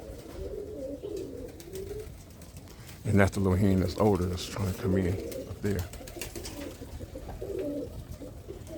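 Birmingham Roller pigeons coo in a loft, a run of rounded, throaty coos close by that rise and fall for a few seconds, while someone talks over them.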